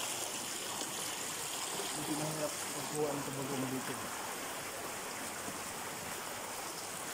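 A mountain stream flows steadily in an outdoor setting, a constant broad rushing wash of water throughout, with someone speaking briefly over it.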